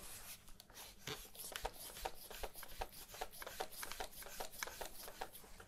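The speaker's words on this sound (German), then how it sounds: "Da schraube ich jetzt hier einfach den Flashhider ab." Flash hider being unscrewed from the threaded barrel of an airsoft rifle, with soft, close, irregular scraping and rubbing of metal threads that continues at a faint level throughout.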